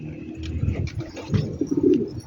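Pigeons coo in low, throaty pulses at a loft with newly released birds, a steady murmur of overlapping calls at close range, swelling in loudness toward the end with no voices.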